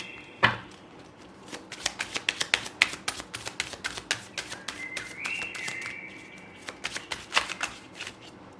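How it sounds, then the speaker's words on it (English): Tarot cards being shuffled, a run of crisp, rapid riffles and taps close by, with a brief faint tone partway through. "So I'm gonna shuffle the cards."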